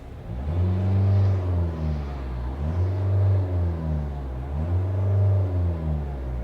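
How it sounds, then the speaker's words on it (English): Diesel engine of a Mahindra XUV700 AX7 L automatic revving in neutral, rising and falling in three or four steady swells of a deep, loud rumble, close by with no talk. "I'm going to rev it."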